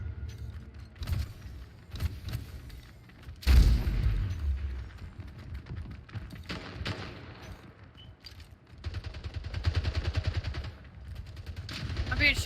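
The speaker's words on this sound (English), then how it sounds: "I'm being shot at. I got shot from like across the map." Gunfire rings out in a video game VIP match as repeated bursts of shots and a heavy boom, loud and close, sometimes rapid like automatic fire, with a player talking over them.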